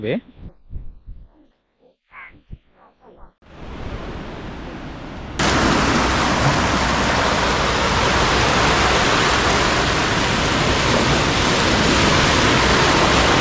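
Sea waves at Vizag beach in Visakhapatnam become a loud, continuous broadband roar of surf after a few seconds of quieter sounds and brief voice-like noises at the start.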